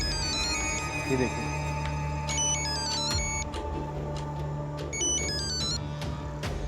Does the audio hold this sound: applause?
no